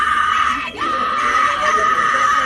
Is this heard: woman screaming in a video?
yes